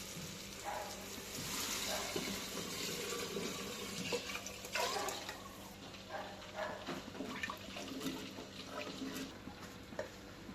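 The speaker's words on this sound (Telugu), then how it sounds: "ఇప్పుడు చింతపండు చారు వేసుకుంటున్నా." Tamarind juice pours into a pan of fried onions while making Telangana-style ulavacharu, a steady watery splash and trickle over about ten seconds with faint clatter, quiet and close.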